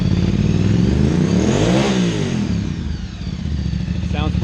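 A Ducati 800 Scrambler track bike fires up for the first time and revs loudly up and back down, its engine note rising and falling close by before dropping toward idle.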